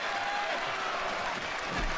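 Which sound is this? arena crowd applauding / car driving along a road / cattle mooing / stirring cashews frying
arena crowd applauding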